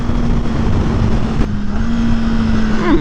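A 2021 Kawasaki Ninja ZX-10R motorcycle drones steadily under heavy wind rush. Its tone breaks off briefly midway, then a quick rising rev blip comes near the end, like a downshift.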